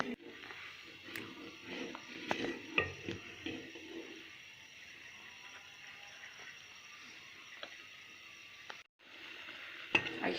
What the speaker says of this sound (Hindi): इसी तरह चम्मच हिलाते हुए बनाऊँगी ताकि नीचे ना लग जाए।